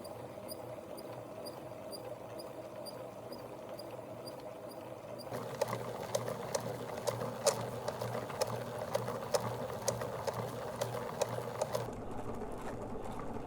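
A sphere machine grinds and polishes a gneiss stone sphere with 100 grit, giving a steady mechanical hum and whir that shifts partway through into a busier rattle with scattered clicks and ticks.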